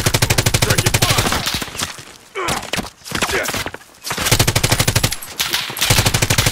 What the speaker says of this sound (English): Taking fire! Taking fire!